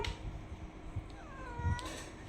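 A cat meows with a rising and falling call near the end, faint among indoor room noise, after a few small thumps.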